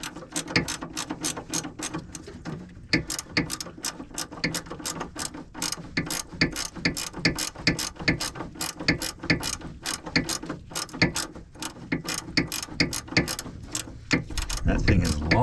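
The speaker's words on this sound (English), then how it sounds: "Now I realize I'm using the wrench on this side." Wrench ratcheting while loosening a sway bar end link on a 2007 Chrysler Pacifica, a fast steady run of close metallic clicks continuing throughout, with a brief pause early on.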